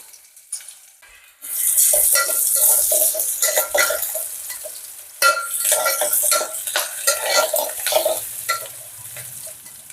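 Onions frying and being stirred in a pan for an egg curry, with a steady close sizzle after a quiet start and repeated scraping clinks of a utensil against the metal throughout.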